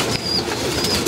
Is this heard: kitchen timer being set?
no